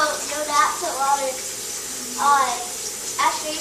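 Tap water runs steadily into a sink during handwashing, a constant hiss heard under a child's speech, which rises in short bursts.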